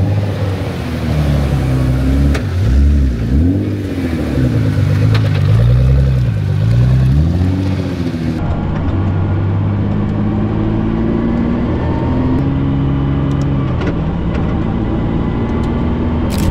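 A Praga Bohema hypercar engine revs and rises and falls in pitch through repeated gear changes, loud and close, then settles into a steadier, droning cruise.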